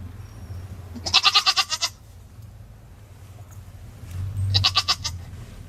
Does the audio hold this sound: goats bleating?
yes